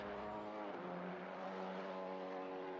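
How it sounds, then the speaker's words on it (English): A high, tight engine note whines steadily at full revs, a Maserati race car in a video game at Spa buzzing continuously at moderate volume with no voices. "I love the sound of this car too."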